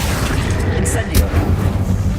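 Incendio fire spell cast in Hogwarts Legacy, a booming burst of flame over dense, steady game noise, with a voice present.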